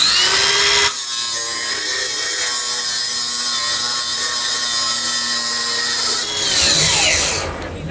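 A power saw bites into wood and is forced into its cutoff mode, giving a loud, close, sustained cutting whine. Near the end the tone drops, then briefly surges again before fading.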